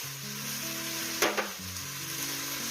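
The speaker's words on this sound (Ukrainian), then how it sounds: "Додаємо трішки часнику, щоб він просмажився." Onion and garlic fry for borscht in a pan, a steady close hiss of sizzling fat with a few brief clatters of stirring midway, no voices.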